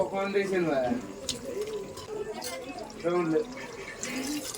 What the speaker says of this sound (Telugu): నీళ్ళు కూడా పోసేస్తున్నాను